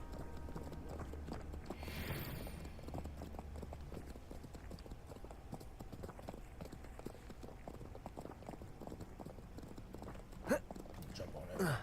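Horses clip-clop in the video game Hogwarts Legacy, a faint, steady run of hoof beats under game sounds and a speaking voice, with a couple of sharper knocks near the end.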